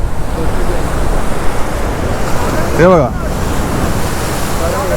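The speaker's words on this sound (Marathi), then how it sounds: "लाटा पूर्ण रस्त्यावर येतात खाली" Heavy sea surf churns steadily against a damaged coastal road in monsoon rain near Bankot and Velas in Konkan, a loud continuous wash with wind, while someone briefly speaks over it.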